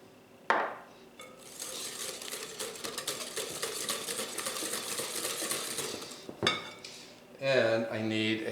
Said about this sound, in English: Then I'm going to whisk in 1 teaspoon of pure vanilla